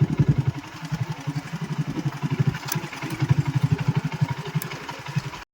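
A motorcycle engine runs steadily throughout with a pulsing, throbbing rumble, close and fairly loud, while riding rural roads in Kutch, Gujarat, with no talking.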